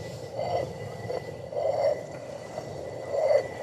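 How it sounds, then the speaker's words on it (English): A quiet, gritty stone rasp repeats in a slow rhythm, as a hand quern grinds grain round and round. "A rotary quern like this"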